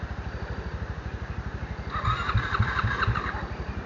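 A Honda Tornado motorcycle engine thumps at a steady, rapid pulse and then revs harder as the bike climbs a ramp outdoors, close to the listener, with no talk over it.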